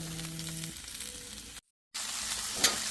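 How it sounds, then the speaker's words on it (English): Steady sizzling of rice frying in a hot pan, with a brief dropout of silence partway through. "once we get the rice on there, you hear it sizzling"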